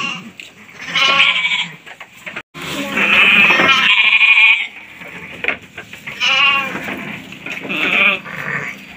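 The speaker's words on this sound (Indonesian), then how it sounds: "Besar banget ya kambingnya, Masya Allah." Goats at a village farm bleat in several loud, close bursts, the calls coming one after another with short pauses between them.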